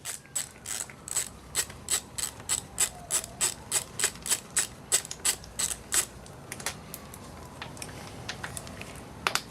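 A ratchet wrench clicks in rapid regular bursts while loosening the timing belt tensioner bolts on a 1.8T AEB/ATW engine, close and clear, with the pace slowing and the strokes turning sparse toward the end.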